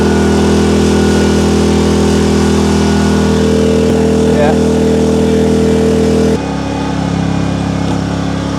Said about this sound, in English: We're just heating it up and scraping it off.